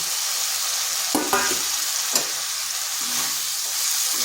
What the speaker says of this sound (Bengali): আলুগুলোর মশলার সাথে একটু কষে নেব